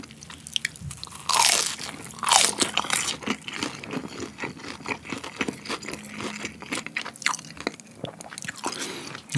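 Crispy Korean fried chicken dipped in sauce is bitten and chewed close up, with loud sharp crunches early on followed by softer, repeated chewing and wet squishing sounds.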